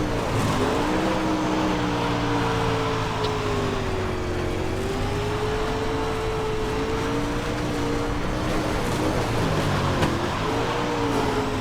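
A race car engine from the iRacing sim drones steadily through a hot lap, its pitch rising and falling with shifts and throttle changes, loud and continuous with no talk.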